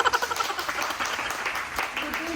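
A small group claps quietly in an uneven patter, faint and short, with a low engine-like hum beneath.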